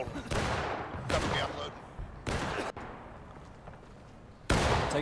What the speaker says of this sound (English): Open fire, boys, open fire.